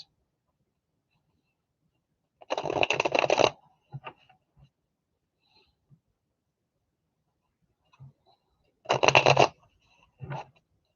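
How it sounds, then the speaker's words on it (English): Tarot cards being shuffled indoors: two short riffling bursts several seconds apart, each followed by soft taps and card handling, with quiet gaps between. "Let me shuffle a couple of times there, Denise."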